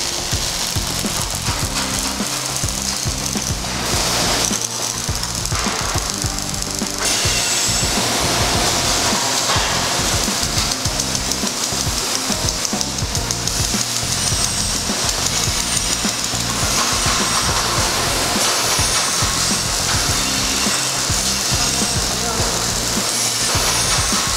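A rubber welding machine runs in a heat press factory, giving a loud, continuous mechanical drone with a steady rumble and a harsh hiss that does not let up.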